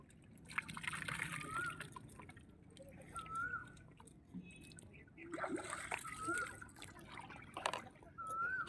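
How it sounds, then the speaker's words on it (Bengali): Water is filled into a vessel at the bank of the Ganges, with soft splashing and trickling that comes in bursts, while birds chirp and voices murmur in the background. "ও জল ভরছে।"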